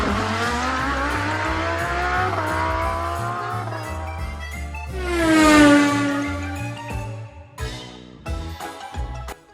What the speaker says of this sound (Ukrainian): але їде авто. Такий звук, так?